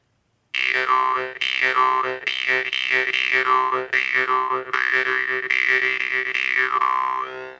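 A jaw harp played with a rhythmic breathing pattern: about seven loud, evenly repeated twanging pulses, each with a sweeping, vowel-like wah in its tone, droning on alone without talk.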